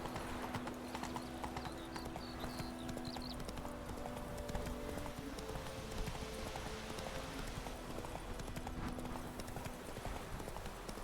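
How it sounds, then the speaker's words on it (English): Horse hooves clip-clopping steadily in The Witcher 3, a continuous rhythmic trot under game ambience and music, with a brief whinny. "Just stole Vesemir's horse"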